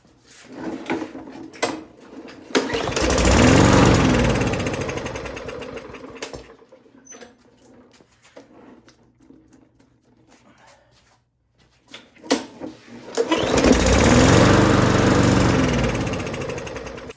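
A Hyper Tough lawn mower engine that starts then dies fires up twice. Each time it runs roughly for a few seconds before cutting out, with clunks and rattles between the attempts, recorded up close.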